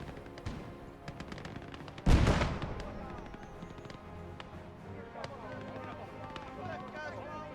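Gunfire from soldiers in the WWII strategy game Gates of Hell, one loud close blast followed by scattered distant shots and battlefield noise.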